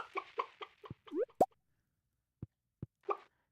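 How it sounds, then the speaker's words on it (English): Chickens in the Stardew Valley farming game cluck in short bursts, mixed with soft plopping sound effects and sparse quiet gaps. No one speaks. "let's see how our chickens are doing"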